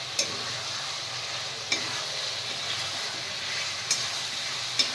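Chicken curry fried with masala crackles in a steady sizzle while being stirred, with occasional sharp scrapes of the spoon against the pan and no voices.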